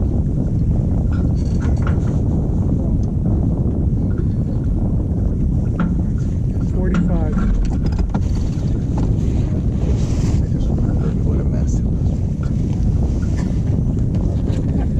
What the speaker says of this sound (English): wind picked back up